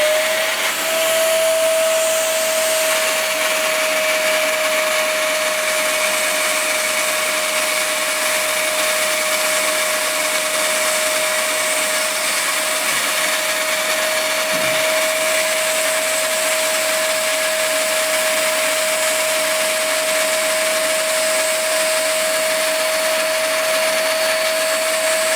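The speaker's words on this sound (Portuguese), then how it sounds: "Duas voltas que o disco dá com o aspirador ligado já é suficiente para tirar todo o excesso." A vacuum cleaner runs over a vinyl record to clean it, a loud, constant whining drone with a steady high tone that holds unbroken from start to finish.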